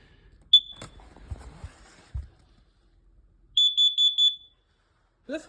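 A First Alert smoke alarm chirps once, then gives a loud burst of four rapid shrill beeps at close range, with handling knocks and rustling in between.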